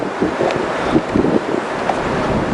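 Wind buffeting an outdoor microphone on a gusty day, a steady low rumble with irregular thumps and swells throughout, no talk over it.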